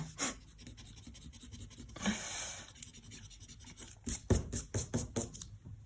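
A pencil scratches across paper while a grid-based proportional drawing is sketched, with short bursts of strokes, a longer shading scribble, then a quick run of rapid rhythmic marks, all close and quiet.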